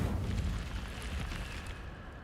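An Incendio fire spell bursts in Hogwarts Legacy, a dense roaring whoosh with a deep rumble that holds steady for about two seconds before tailing off slightly, close and full, with no voices.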